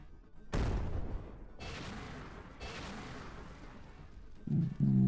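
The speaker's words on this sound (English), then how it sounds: "Explosions." Hand grenade explosions in the video game USC: Counterforce, a loud burst followed by rumbling blasts and a trailing second detonation, with sharp mechanical clanks near the end.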